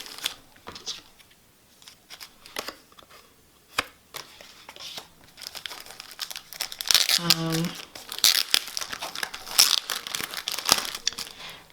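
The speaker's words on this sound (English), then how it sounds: "the paper that I'm most excited for" Sheets of handmade paper being handled for a traveler's notebook journal, with soft crinkling and rustling that swells into a louder burst of crumpling midway, with a voice talking over parts of it.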